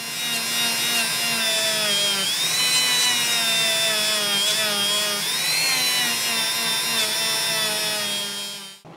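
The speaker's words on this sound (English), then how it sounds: "we're going to use a polishing wheel and just give them a last shine" A polishing wheel buffs guitar frets coated with jeweler's polish, giving a steady high-pitched whir that wavers slightly as pressure shifts, close up, then spins down at the end.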